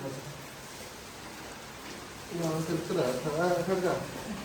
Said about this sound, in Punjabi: ਵੇਖੋ ਮੀਂਹ ਕਿੰਨਾ ਪੈ ਰਿਹਾ